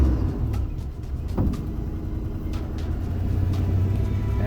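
An RV engine, just stalled while shifting into drive, rumbles and is blipped with throttle, a continuous close low drone with a brief rise midway and faint clicks and rattles over it.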